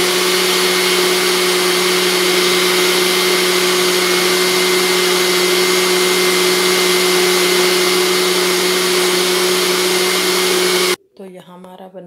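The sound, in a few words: blender making banana milkshake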